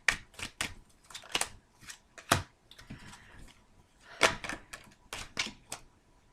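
Tarot cards being pulled from a deck and laid out, a run of sharp crisp snaps and slaps in irregular clusters, close and fairly quiet, with no talk.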